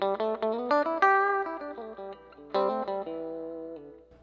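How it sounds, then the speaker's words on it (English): An electric guitar plays a lead melody of sustained, singing notes on a naturally heavy distortion lead channel through a Two Notes Revolt preamp and Opus cab simulator, heard alone with short gaps between phrases. "What you're hearing is just a natural heavy distortion lead channel."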